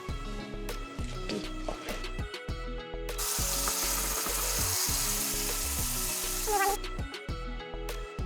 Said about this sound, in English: we're gonna wait for when the pan is really hot, and we're gonna put the vegetable in there